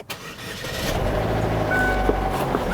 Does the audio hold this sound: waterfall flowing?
no